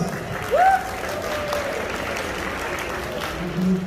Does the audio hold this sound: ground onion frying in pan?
no